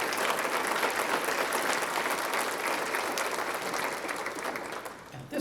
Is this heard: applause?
yes